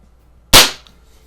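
A single sharp CO2 pistol shot, from a Sheridan EB20 or Crosman 2240, cracks out close and loud in a quiet room, then decays quickly, with no voices.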